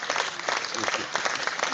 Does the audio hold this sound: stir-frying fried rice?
no